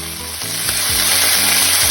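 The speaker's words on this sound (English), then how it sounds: "Add garlic, red chilies," Garlic and red chilies fry in a pan for a Beijing beef recipe, a dense, steady sizzle growing slightly louder, with soft low scraping knocks from stirring.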